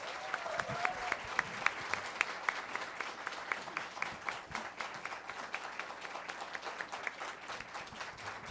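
Audience applauding at a public hearing in Brazil, a steady mass of clapping that runs the whole time at moderate level, with no one speaking over it.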